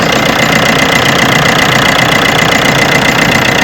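A repaired engine on a van or HGV, after waterpump and clutch work, idles loudly up close with a steady, even knocking rumble and constant vibration, no voices over it.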